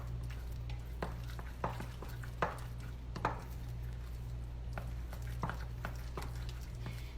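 Worcestershire stirred into deviled egg filling in a bowl, producing soft, irregular scraping taps of a utensil, close and quiet over a constant low hum.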